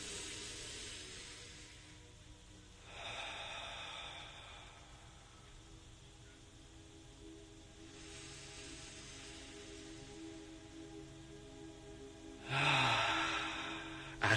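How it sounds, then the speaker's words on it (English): Slow, deep breaths during a guided morning meditation, with soft inhales and long airy exhales in a quiet room, spaced several seconds apart. "So again, just deep breaths."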